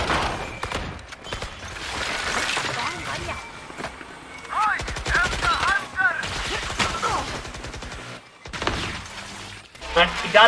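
Grenade and gunfire during a Valorant match, with bursts of shots, crashing impacts and a blast scattered through the stretch, mostly under continuous excited commentary.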